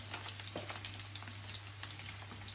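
Large prawns fry in hot oil with a steady, fizzing sizzle and small crackles and pops, faint and even throughout, with no voices.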